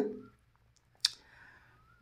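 A single sharp computer mouse click sounds crisp and close in a quiet room, with brief faint voice fragments at the start and end.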